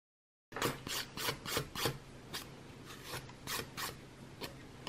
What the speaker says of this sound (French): je vais commencer à venir limer mon ongle et mon gel